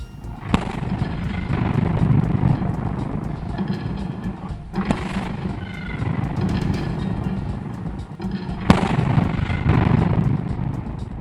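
An artillery salute fires during a minute of silence before a military parade in a city square: three heavy booms spaced about four seconds apart, each followed by a rumbling tail over steady outdoor background noise.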